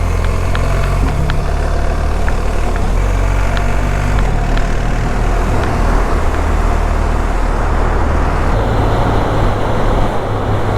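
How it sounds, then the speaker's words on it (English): Motorcycles ride through the Lyttelton Road Tunnel near Christchurch, filling the enclosed space with a loud, continuous engine and road roar that barely varies over the whole stretch. "They're riding through the Christchurch tunnel now."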